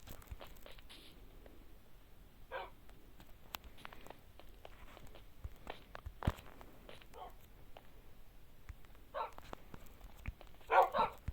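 Small dogs barking in a hardcore survival video game, with a few short, sharp bursts spaced apart and a louder cluster near the end over soft background game sound.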